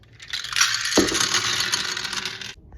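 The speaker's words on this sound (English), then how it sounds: "it has all these little balls and they fall through and it makes some fun sounds" A rain stick toy cascades small colorful wooden balls that rattle and patter steadily for about two seconds, with a single sharper knock partway through, then falls quiet.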